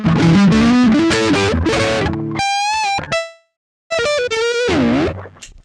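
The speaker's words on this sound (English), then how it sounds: "like lots of distortion on it." Electric guitar with heavy distortion and reverb playing chords and sustained notes, a gritty buzzing tone with a short silent gap before strumming resumes.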